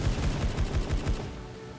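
In the Truy Kích shooter game, a 93R pistol fires in quick three-round bursts. Several sharp, punchy shots come in rapid succession for about a second, then the sound fades.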